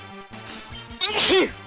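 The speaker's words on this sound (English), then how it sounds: "my sneezes are quite loud" A single loud, explosive sneeze close to the microphone, preceded by a short inhaling buildup over a low hum.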